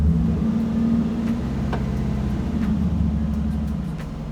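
A supercharged V8 in a drift truck idles while warming up, a deep, steady, close rumble with a faint whine on top and occasional light clicks, with no talking.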